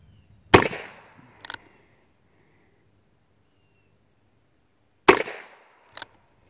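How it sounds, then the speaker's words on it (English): An old Ruger Single Six .22 LR revolver fires two sharp, close shots about four and a half seconds apart, each followed a second later by a faint metallic ding of the bullet striking a steel target, with quiet between. "This is a really good shooting little gun."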